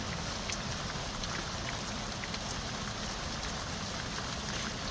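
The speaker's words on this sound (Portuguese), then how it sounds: "Olha a chuva. Isso é difícil continuar." Heavy rain pouring steadily near the Tabuleiro waterfall in Minas Gerais, a dense constant hiss of drops on surfaces with a rushing river beneath, no talking.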